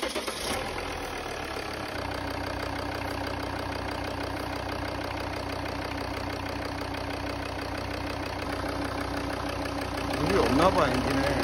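A Volvo XC70 with a D5 five-cylinder diesel engine idles with a steady, close mechanical clatter and rumble. The car is leaking coolant. People talk over the idle.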